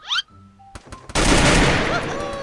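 A burst of rapid gunfire erupts in the Free Fire video game, loud and sustained for over a second after a short whistle-like sweep and a few sparse tones and clicks.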